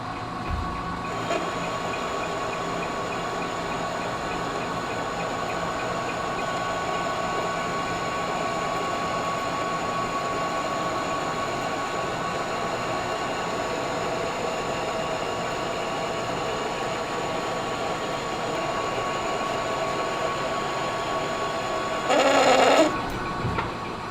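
A Lion lathe cuts a new cross feed screw with a follow rest fitted, giving a steady continuous machining drone with tonal whine and faint chatter, plus a brief louder burst near the end.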